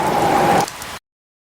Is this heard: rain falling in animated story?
yes